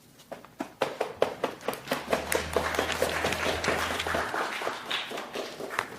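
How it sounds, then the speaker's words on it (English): A few scattered claps from an audience at a government announcement event, sharp irregular hand claps in a room, moderately loud and close, with no voices. "I'm glad I got a few claps"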